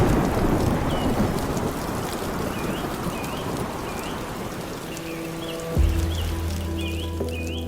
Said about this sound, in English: And then the heavy rain pours down. Thunder splits the sky, and the wind thrashes through the canopy